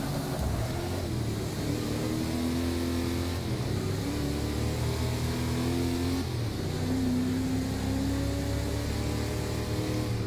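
A classic American muscle car engine in Forza Motorsport 6 revs and accelerates through repeated gear shifts on the Rio de Janeiro track, rising pitch sweeps over a constant roar, with no talking.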